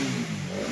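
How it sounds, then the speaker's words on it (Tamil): A Bajaj Pulsar NS200 motorcycle engine, freshly repaired, revs hard at full throttle, a steady loud mechanical roar with a rising pitch near the end and no talking. "வண்டி பக்காவாக ஃபுல் த்ராட்டில் ஆகுது"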